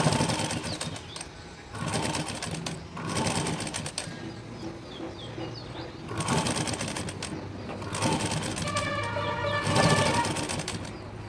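A sewing machine stitches a shoulder seam on a garment in rapid bursts of mechanical whirring and clatter, starting and stopping several times, close and loud with short pauses between runs.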